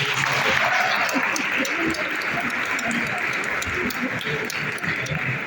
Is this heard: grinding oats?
no